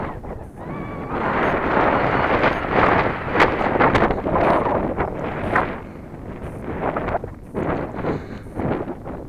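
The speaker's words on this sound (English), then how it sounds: "The wind is picking up." Steady wind buffets the microphone outdoors at a model airplane flying field, a loud rumbling gusty roar that swells and eases for the whole stretch with no one speaking.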